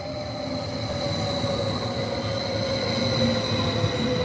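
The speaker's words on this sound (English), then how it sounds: "it's just another train arriving. Here comes a newer unit" A newer second-generation Swiss RA 511 electric train unit arrives at a station, its steady rolling rumble and high wheel squeal held at an even, close level throughout with no talk.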